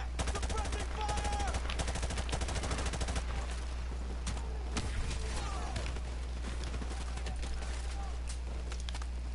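Sustained automatic gunfire from a console shooter video game rattles in fast bursts amid shouting voices, with clattering effects and a constant low rumble underneath.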